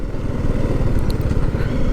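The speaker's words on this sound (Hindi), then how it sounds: "ऑफकोर्स आपको मेरी बाइक की आवाज़ सुनाई दे रही होगी।" A motorcycle engine thrums with a rapid, rough low pulse while riding on a road, close and loud with steady chugging throughout, no speech over it.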